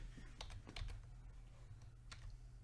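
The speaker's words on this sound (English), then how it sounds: "Type in prop underscore button." Soft clicks from a computer keyboard while working in the Hammer level editor for Portal 2, arriving in quick irregular clusters with short pauses, quiet and close under a low background hum.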